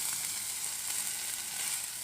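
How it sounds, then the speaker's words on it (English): Onions frying in oil in a pan, a steady bright sizzle with faint crackles, alone and fairly quiet throughout. "Let's put on these onions."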